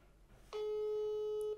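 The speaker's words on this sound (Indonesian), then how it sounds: "Coba kita telepon ya." A telephone ring-back tone sounds as a call is placed, a steady electronic tone that starts abruptly and holds for about a second before cutting off.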